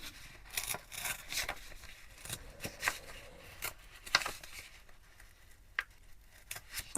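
Paper being torn by hand to make a large junk journal envelope: quiet, uneven rips and crinkly bursts come in short spurts, with a few sharper tears standing out.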